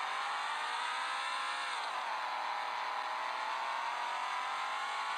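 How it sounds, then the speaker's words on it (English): A Chevrolet El Camino engine revs steadily and close-up before launching. The drone holds a constant loud whir, and its pitch dips briefly partway through. No one speaks over it. "Go ahead and get the rev up to take off."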